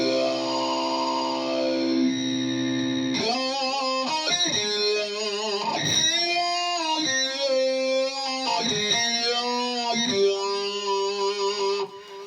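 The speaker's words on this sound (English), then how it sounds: "So I'm opening up the filter with my foot." Electric guitar through a foot-pedal-controlled sweeping filter effect, tone opening and closing as notes ring out, with echoey, vocal-like swells.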